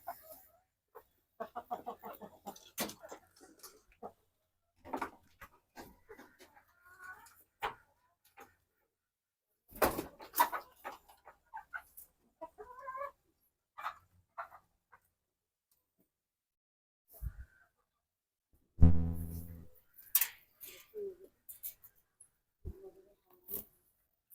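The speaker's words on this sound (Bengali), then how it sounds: "ছাড়ার ভিডিও কেমনে মুরগিগুলো ছাড়ে" Hens cluck in short, scattered bursts with quiet gaps between them as they are let out, mixed with light ticks and taps, on a small poultry and pigeon farm.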